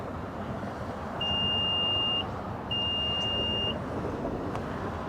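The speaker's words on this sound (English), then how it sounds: "I hold the button down and I listen for the beeps" Two clear electronic beeps from the power tailgate of a 2025 Infiniti QX80 confirming the memory height setting, each a sustained tone about a second long, heard over a quiet background hiss.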